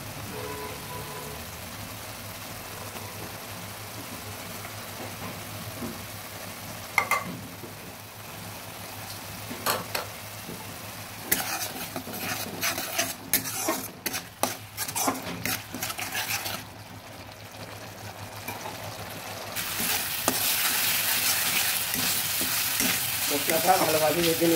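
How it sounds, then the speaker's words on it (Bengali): Spice masala frying in a pan for a vegetarian Kabuli chickpea curry, a soft sizzle with scattered clinks and scraping of a utensil stirring against the pan, no talk. "মশলাটা ভালোভাবে ভেজে নিলাম"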